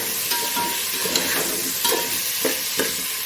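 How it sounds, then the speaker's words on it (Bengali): Tomato, salt and turmeric are stirred in a pan for a vegetarian khichuri with potato and cauliflower, giving a close sizzling hiss broken by several short scraping strokes of the spoon. "আর দিলাম হলুদ প্রয়োজন মতন, দিয়ে নাড়াচাড়া করে দেবো।"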